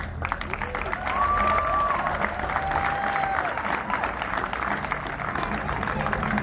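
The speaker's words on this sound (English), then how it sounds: "a big round of applause for them, please" Spectators at an ATP Challenger tennis trophy ceremony in San Luis clap steadily in a broad wash of applause, moderately loud and continuous, with some faint crowd murmur beneath.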